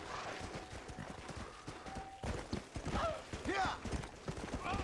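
Clip-clop of horse hooves in a quick rhythm, mixed with a whinny and other game sounds, fairly quiet, from the horse Pestilence in the video game Red Dead Redemption: Undead Nightmare.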